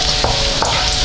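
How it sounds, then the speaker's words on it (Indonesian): Garlic sautéing in oil in a pan, hissing in a loud continuous close sizzle with a couple of brief stirring scrapes, and no talking. "Bawang putih ditumis hinggalah warna macam ni."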